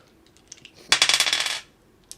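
Dice clatter across a table for damage rolls during a tabletop roleplaying game, a loud burst of rapid rattling clicks lasting under a second, with faint tapping before and after.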